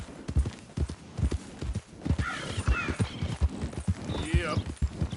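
Horse hooves clip-clop in a steady, close trotting rhythm in the Red Dead Redemption 2 video game, with a horse snorting and whinnying briefly in the middle and a person speaking over it.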